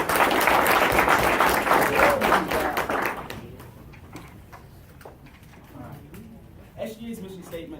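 Audience applause at a student government presidential debate, a loud burst of clapping for the introduced candidates that fades after about three seconds into quieter room noise with a few stray claps.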